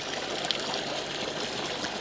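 Clean water runs in a natural stream in rural Ethiopia, a steady close rush and trickle that continues without a break and with no voices.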